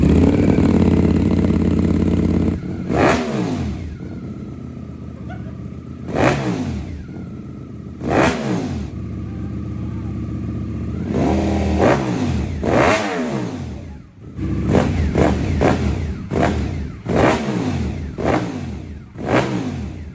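A 2024 Ducati V4 snow bike engine with a newly finished exhaust starts up and idles roughly, then rips through a series of sharp, loud revs, spaced out at first and coming in quicker bursts toward the end, with no talking.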